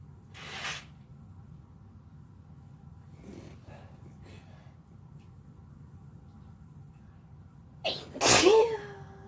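Two sneezes from a person lying close against another: a short, breathy sneeze near the start, then a louder, sharper sneeze near the end with a short vocal tail, quiet breathing and faint murmurs in between.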